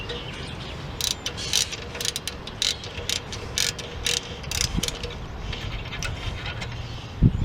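Ratchet working a 10mm brake caliper bolt loose on a Ford Explorer during rear rotor and brake pad replacement, a run of quick metallic clicks in short irregular bursts, close and fairly loud.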